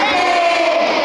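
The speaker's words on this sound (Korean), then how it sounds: "여러분들 큰 소리로 만세를 외치면서 취임사에 가름하도록 하겠습니다" A crowd of students at a school entrance ceremony shouts "manse" together in one loud, brief burst of massed voices that holds for about a second and fades slightly at the end.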